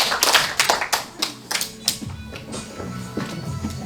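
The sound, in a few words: class clapping twice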